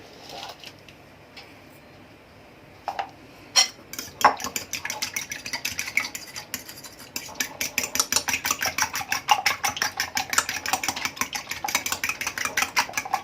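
An egg being beaten with salt and pepper for a breading mix: a few loose clinks at first, then a fast, steady run of clicking whisk or fork strokes against a bowl, close and alone.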